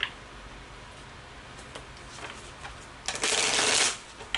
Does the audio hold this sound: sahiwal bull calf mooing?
no